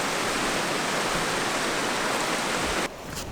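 Steady broadband rush of a river flowing beside a Tarptent Stratospire 1 tent, loud and close, continuous with no talk, dipping slightly near the end.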